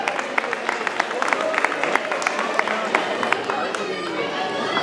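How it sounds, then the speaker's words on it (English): A crowd claps at the grand finale of a Passion Play as the cast is called to the stage, giving steady, mid-distance applause with sharp individual claps over a murmur of chatter. "A big round of applause for them."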